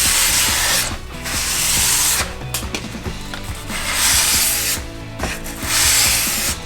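Sharpening a Mora Companion knife, a steady rhythmic rasp of steel stroked along a sharpening surface, loud and close in repeated passes with short gaps between strokes.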